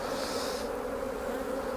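Honeybees buzzing around an open hive super during a honey check, a steady close drone with no pauses and no talking.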